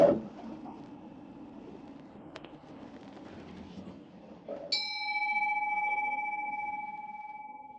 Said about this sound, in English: When a bell rings in the middle of a feast and a Buddhist service begins, it somehow catches you off guard.